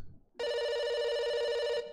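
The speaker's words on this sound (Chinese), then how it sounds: "是谁的电话？" A telephone rings with a loud, steady electronic tone that cuts in abruptly after a brief low noise and holds unbroken for well over a second before stopping.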